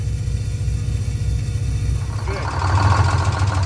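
A Detroit Diesel 6-71 engine idles with a steady low rumble and a slight hunting rhythm, getting louder and rougher toward the end.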